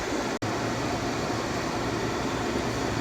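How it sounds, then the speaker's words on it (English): A hair dryer blows hot air to heat-set paint on a fishing lure. It gives a steady, loud whooshing roar with a brief cut near the start. "I'm going to heat set that with a hair dryer"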